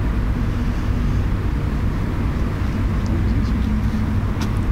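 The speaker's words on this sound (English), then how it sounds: "Albeit there's traffic." Steady low rumble of distant road traffic, a continuous broadband wash with no distinct events or voices.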